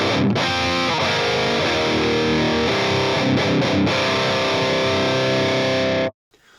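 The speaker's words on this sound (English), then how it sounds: "I've gone with just a simple boosted 5150 patch into a Mesa cab" Crunchy distorted electric guitar through a Line 6 Helix, with a boosted 5150 amp patch into a Mesa cab and a Tube Screamer 808 boost. Sustained chords ring out thick and loud, with a few quick chord changes before the sound cuts off abruptly near the end.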